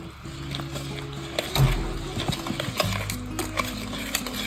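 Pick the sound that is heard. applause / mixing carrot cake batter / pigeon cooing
mixing carrot cake batter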